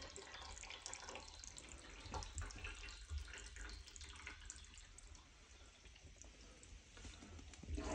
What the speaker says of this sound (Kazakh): Метр жерден келе жатыр су.